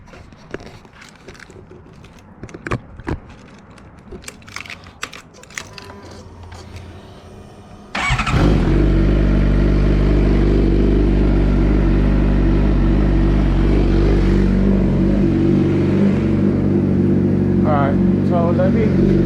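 Motorcycle engine fires up after a stretch of clicks and handling noise, then settles into a loud, steady running drone close by, with a voice speaking over it.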